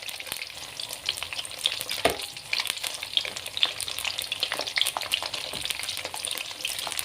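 Eggplant frying in hot oil for a Betawi chili dish, a loud, dense, continuous sizzle and crackle with occasional stirring scrapes, close up and without talk.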